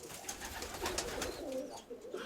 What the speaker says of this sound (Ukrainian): Є дуже прекрасні голуб'ята.